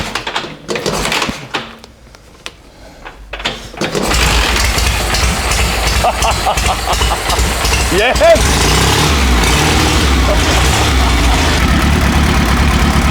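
After a few seconds of voices, a Motosacoche D50 Type 422 motorcycle engine cranks and fires up, then settles into a loud, steady rumbling idle that runs to the end.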